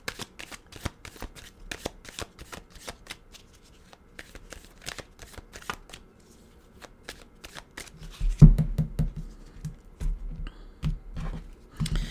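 Tarot cards being shuffled by hand produce quick, close riffles and slaps in irregular bursts, then a louder, denser stretch of handling and rubbing toward the end, with no talking.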